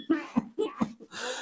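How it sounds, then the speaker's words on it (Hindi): A man coughs in four or five hoarse, close bursts with short gaps between them, each one loud and chesty, with no talking around them. "जब से यहाँ गांव में आया हूँ, दिन भर खांस रहा हूँ।"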